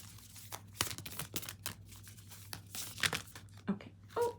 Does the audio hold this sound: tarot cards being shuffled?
yes